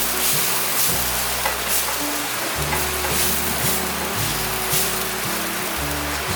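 King oyster mushrooms stir-fried in a pan with coarse black pepper give a steady, close sizzle, with a low tonal background running underneath.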